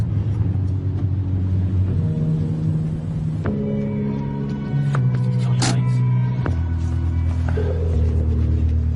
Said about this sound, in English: There's a car with some EDL members who we haven't met before.